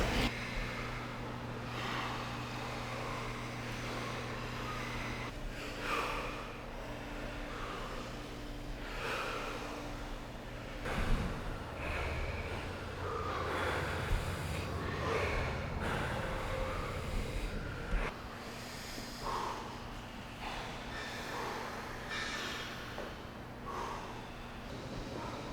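A person does a round of thirty deep breaths as a breath-control exercise, with soft, rhythmic inhales and exhales repeating at a steady pace, faint and close, over a low background hum.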